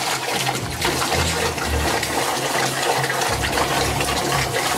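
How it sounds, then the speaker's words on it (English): Water pours out of a Unger HiFlo deionizing water filter tank into a bucket in a steady, continuous rush with a low gurgle underneath, close and fairly loud throughout. "Now we're going to empty the water out of the tank into a bucket."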